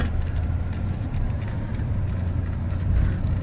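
Steady low rumble of a car driving across an auto bridge at an easy speed, road and engine noise continuous and close without any talk.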